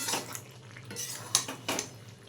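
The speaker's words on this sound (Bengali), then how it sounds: "এভাবে নেড়ে ছেড়ে নিচ্ছি" Pui shak and jal bara are stirred in a pan, with a few distinct metal scrapes and clinks of a spatula against the pan over a faint simmer, quiet and close.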